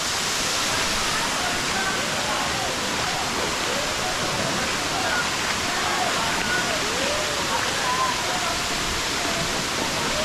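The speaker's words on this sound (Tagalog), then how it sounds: "Ayan yung falls dyan sa baba." A waterfall at a tourist falls site roars as a constant, dense rush of water that fills the whole scene without a break. Faint higher chirps or whistles drift over it.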